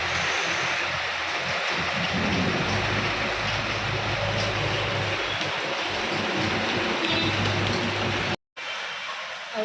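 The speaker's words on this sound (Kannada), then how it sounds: "ಮಳೆ ಜೋರಾಯಿತು" Sudden heavy downpour, a dense steady hiss of rain on surfaces, loud and continuous with a brief drop-out near the end.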